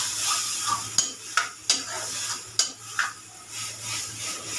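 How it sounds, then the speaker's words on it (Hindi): Chicken masala being stirred in a pan while it fries, a steady sizzle running throughout with several sharp clinks and scrapes of a spoon against the pan, close up, with no talking. "तो और थोड़ा सा ये वाला मसाला चिकन मसाला, बस इसको अच्छे से मिक्स कर लेते हैं,"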